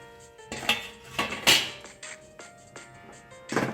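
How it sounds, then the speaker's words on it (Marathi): Metal lid set back onto a cooking pot of red pumpkin curry on the stove, producing several sharp clanks and clinks with ringing metallic tones, fairly close and alone without talk. "याला आपण पुन्हा झाकण लावून ठेवूया"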